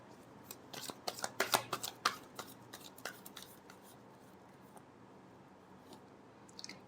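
Tarot cards are shuffled by hand in a quiet room, a close, soft flurry of rapid riffling clicks and flicks that peaks early, then thins to sparse faint taps.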